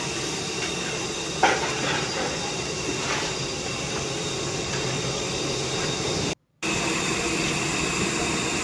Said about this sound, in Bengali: গরম তেলটা যেটা ছিল সেটা এর উপরে দিয়ে দেওয়া হচ্ছে